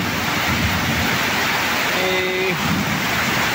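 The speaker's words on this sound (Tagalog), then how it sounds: "lakas na ng ulan" Heavy rain pours in a steady, dense wash during a cold rainy spell, loud and continuous throughout with no voices.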